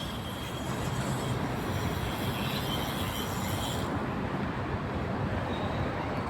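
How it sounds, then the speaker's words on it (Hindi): Sentosa Express monorail train in Singapore rolling past outdoors as a steady, broad rumbling roar that holds for several seconds, with no voices. "ये आ गई वहाँ से मोनोरेल,"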